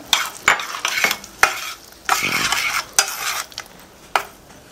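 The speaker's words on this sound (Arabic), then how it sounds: "دابا غنزيدو فواكه نزيدو لي فخوي اللي هي المشماش والكيوي" Apricot and kiwi pieces tumbling into a hot boiled glucose and nappage glaze, stirred with a utensil scraping and clinking against the pan in short irregular bursts, close and fairly loud, with no voices.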